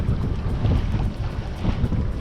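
A sailboat under way on open water in wind, a steady close rush of wind buffeting the microphone over the wash of water against the hull, with no talking.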